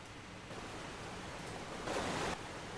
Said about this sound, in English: And then we have hovering waterfall.